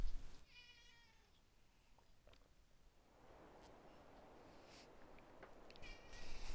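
A cat meows once, close and clear at the start, followed by a quieter second meow later over faint background hiss, with no talking.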